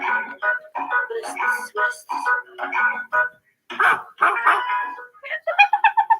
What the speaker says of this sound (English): She had a bark in the intro.